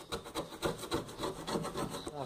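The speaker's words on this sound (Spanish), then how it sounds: "Ahora lo lijamos." Quick repeated sanding strokes rub across a refrigerator door, a close, rhythmic scratchy rasp with no one talking.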